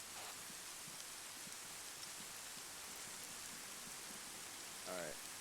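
Steady rain in the video game Arma 3 hisses evenly throughout, with faint distant voices and a brief radio-like voice near the end.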